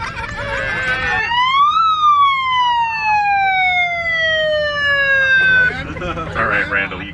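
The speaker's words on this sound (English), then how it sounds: "All right, Randall, you gotta warn me with that fucking siren." A wailing siren sound effect sweeps up then slowly glides down in a long, loud, rising-and-falling tone, with voices talking over the start and end.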